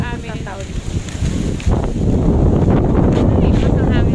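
Strong wind buffets the microphone in an open outdoor spot, a loud continuous roar that grows heavier partway through, with a person speaking over it early on.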